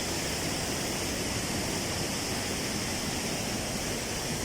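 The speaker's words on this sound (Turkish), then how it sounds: "Şelaleye biraz daha yaklaşacağız." Gürpınar waterfall in Malatya, Turkey, heard up close as a steady, loud rush of falling water, a dense unbroken roar that holds at the same level throughout with no voices.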